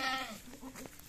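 A young goat kid resting in open pastureland gives a close, clear, wavering bleat at the start that trails off into quieter rustling.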